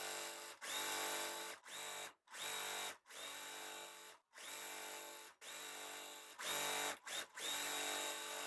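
A sewing machine stitches quilt block pieces from a fat quarter mystery block pattern in a steady high whirring run, broken into about a dozen short bursts with brief stops between them, close and clear with no talk.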